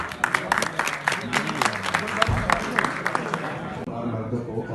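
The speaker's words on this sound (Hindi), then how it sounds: "पहले तालियां बजाए नासिर साहब के लिए" An audience at a tribute event applauds for Nasir Sahib, a dense burst of many hands clapping that fades toward the end, with voices murmuring among the clapping.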